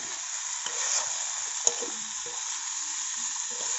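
Fish tossed with a roasted pepper and cinnamon spice masala over a village wood-fired stove, giving a steady soft sizzle with faint stirring scrapes and one sharp tap, close by and without talk.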